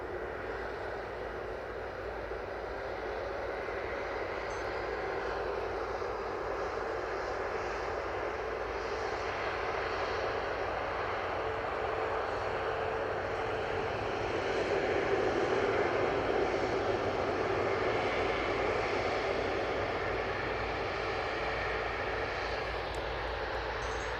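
An Etihad Boeing 777-300ER at Manchester Airport gives a steady, broad jet roar that holds for over twenty seconds, swelling slightly midway, heard from a distance with no voices.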